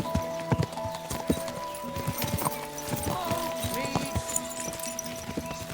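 Horse hooves clip-clop in Kingdom Come Deliverance 2, a steady irregular trot of close, crisp knocks. A game voice speaks alongside, with a brief whinny-like sound among the steps.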